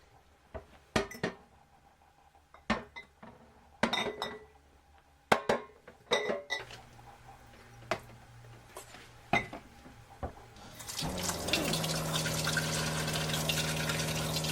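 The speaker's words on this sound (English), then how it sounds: "I'm going to start by washing 7 of my jars at a time" Quart glass canning jars washed in a sink in an RV kitchen, seven at a time: sharp scattered clinks and knocks of glass, then running water gushing steadily into the basin, close and clear.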